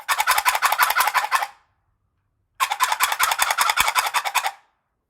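A turkey call device imitates a gobble in two rapid rattling bursts of about a second and a half each, separated by a short silence, close and loud.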